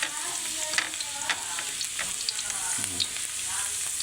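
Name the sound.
garlic frying in a pan for lechon paksiw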